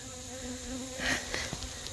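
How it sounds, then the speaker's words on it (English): Honey bees buzzing around a taped-up hive entrance outdoors, a continuous droning hum with individual bees flying close past the microphone, fairly loud and without speech. "these must be field bees that got left out last night"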